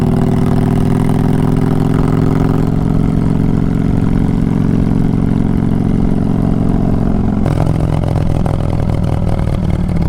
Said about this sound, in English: This giant V-twin has so much torque.